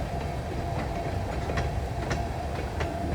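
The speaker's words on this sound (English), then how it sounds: "So now they got to put all these cars back in the siding." Freight cars are switched on a rail siding in the rain, with a steady rolling rumble and faint periodic wheel clicks from cars moving slowly nearby.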